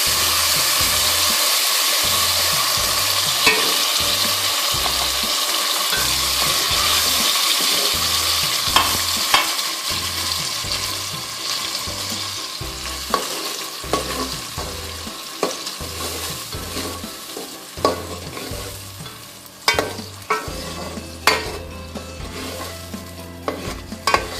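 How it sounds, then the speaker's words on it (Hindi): Puréed tomato, ground in a juicer, hits hot ginger-garlic paste in a pan, setting off a loud, continuous sizzle with scraping stirs and sharp crackles that grow busier toward the end, with no talking. "वो मैंने टमाटरों को जूसर में पीस लिया है और फिर मैं इसको इसके अंदर डाल रही हूँ"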